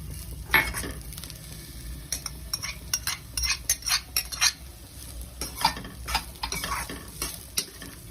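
Grated carrots for vegetable spring rolls stirred and sautéed in a pan, a steady sizzle broken by repeated scraping and clinking strokes of a spoon against the pan.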